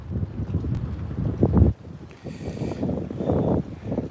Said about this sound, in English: It may sound that way for you guys because now I'm facing into the wind and it's blowing directly into me.